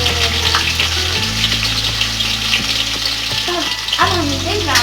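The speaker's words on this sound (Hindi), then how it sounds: "अब हम इसमें प्याज डालेंगे। दो कटी हुई प्याज ले लेंगे।" Chopped onions frying in a pan with mustard seeds for poha, giving a steady broadband sizzle throughout, with a few soft stirring knocks under the hiss.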